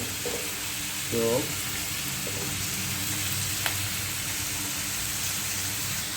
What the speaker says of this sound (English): Stir the vegetables a bit. Stirring the vegetables.